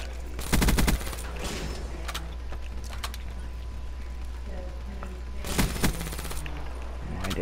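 Gunfire in Call of Duty: Black Ops III, with dense bursts of rapid shots near the start and again around the middle. Steady game background noise fills the gaps between the volleys.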